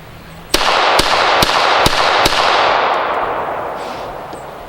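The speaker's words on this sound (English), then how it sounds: "I'm gonna shoot all 5 shots pretty quick, and then we can scroll through and see what they were." Five rifle shots fired in quick succession through a MagnetoSpeed V3 chronograph at an outdoor range, each a sharp, loud crack about half a second apart, with a long booming echo that trails off afterward.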